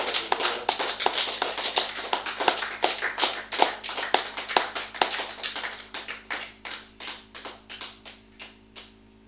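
Church congregation clapping in steady rhythmic unison, a dense run of sharp claps that carries on for several seconds and then thins out into fewer, fading claps toward the end.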